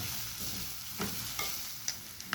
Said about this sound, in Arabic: قعدت بقى اقلب كده.